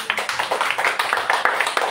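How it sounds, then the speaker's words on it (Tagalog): A church congregation claps in a quick, steady rhythm during a sermon, with close, sharp claps repeating evenly throughout the short burst. "Ituloy niyo yung palakpak niyo."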